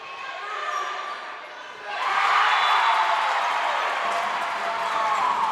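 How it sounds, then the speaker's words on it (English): A crowd in a high school volleyball gym cheers and roars loudly as the match is tied at 6, sustained noisy excitement swelling midway and holding steady, with a faint announcer voice underneath. "Tied at 6, and the crowd is involved now. If you couldn't tell, things have gotten a little bonkers."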